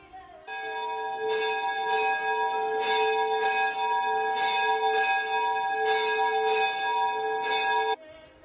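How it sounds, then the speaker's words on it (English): Church bells ring out in a steady, overlapping peal, loud and resonant, with long sustained tones hanging between strikes. "Church bells could be heard echoing daily for announcing the services are about to begin."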